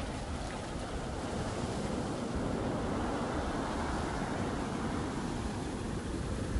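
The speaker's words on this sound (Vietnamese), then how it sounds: "sóng biển đánh cũng tưng bừng luôn nè" Sea waves crash and surge against the shore on the Sri Lankan coast, a continuous broad roar of surf with wind, steady and fairly loud, and no talking.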